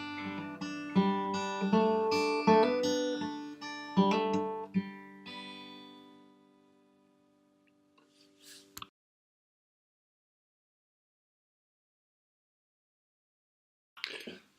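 Acoustic guitar plays a slow fingerpicked phrase with hammer-ons and ringing open strings, from a song; clear, close notes for about six seconds that decay into silence, then a faint brief noise near the end.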